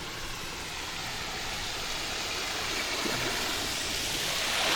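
A small waterfall on the Georgia College campus near the library gives off a steady, close rushing hiss of falling water that swells slightly, with no voices.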